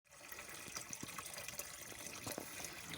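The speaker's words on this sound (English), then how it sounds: "Alright, I'm just filling it with water and putting some clothes in there." Water runs steadily into a washing machine tub at a homestead laundry, a soft continuous gushing and trickling pour with no voices.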